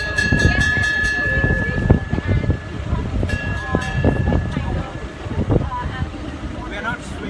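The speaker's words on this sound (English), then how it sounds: "we're just waiting for the train to roll off" A safari park tour train starting to roll, with rumbling wheels, a steady whistling tone and clanks heard close up under ongoing talk.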